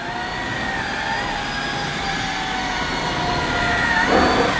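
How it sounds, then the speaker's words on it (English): An AEG FX9 cordless vacuum cleaner runs on carpet in automatic mode, its motor giving a steady close whine with a slight rise in tone near the end as it is pushed along. "I could hear the motor changing tone as I push the machine along"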